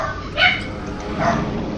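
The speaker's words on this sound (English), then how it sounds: "Trying to talk over the dogs." Dogs barking in a room, two short barks about a second apart, fairly close, with no talk.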